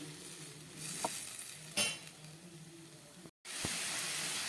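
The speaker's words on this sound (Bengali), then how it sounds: "এবার গ্যাসটাকে মাঝারি আঁচে দিয়ে এই মশলাটাকে পুরো কষিয়ে নেব আমি।" Spice masala frying over medium heat for a Bengali bhola fish curry gives off a steady soft sizzle and hiss. A few brief stirring scrapes break through it, along with a short louder spatter.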